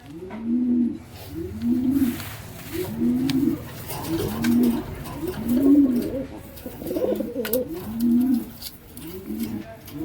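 Black Lakka pigeons coo in repeated low, throaty phrases, close by and fairly loud, each call rolling into the next at a steady pace with faint background noise.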